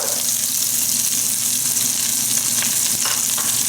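Onions frying in a pan with a dense, loud, continuous sizzle that hisses evenly throughout, close to the pan, with no voices.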